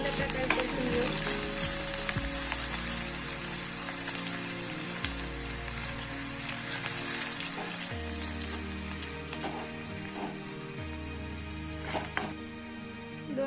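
Ginger garlic paste sautés in a hot pan for a samosa filling, giving a steady, close sizzle with crackling spatters. Occasional scrapes of stirring cut through, and no one speaks.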